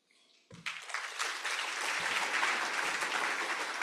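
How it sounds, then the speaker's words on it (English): An audience at a Tokyo-London green finance seminar breaks into applause after a speech, beginning abruptly and swelling into sustained, dense clapping from many hands. "Let's send them another big round of applause."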